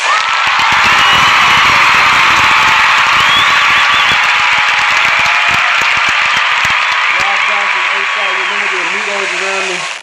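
A crowd gives a round of applause on a talk show, dense clapping that stays loud throughout, with a tonal voice-like sound rising over it near the end.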